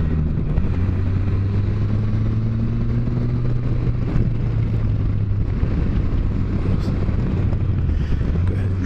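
Motorcycle engine on a tight, climbing back road near Lake Hope Furnace, droning steadily and loud up close, with its pitch sliding down as the rider drops a gear and then holding low under wind rush.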